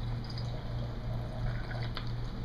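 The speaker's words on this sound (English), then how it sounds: "put a little bit of water in here." Water poured into the jar of a Waring 720-watt blender, a faint steady trickle up close over a low background hum.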